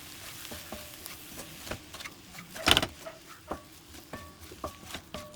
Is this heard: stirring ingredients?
yes